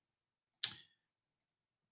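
A computer mouse clicks once sharply and close, followed by a faint tiny double tick a moment later, otherwise quiet.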